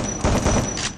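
Shotgun fire in the Free Fire mobile battle game: a couple of loud, booming blasts in quick succession over a dense, noisy game backdrop.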